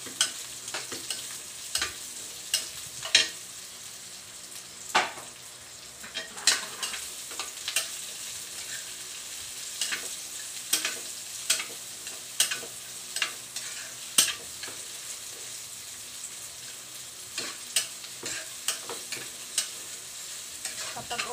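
Onions frying in a pan with garlic for a tomato dish, giving a steady soft sizzle broken by frequent sharp scrapes and clacks of a utensil stirring, close and clear with no talk.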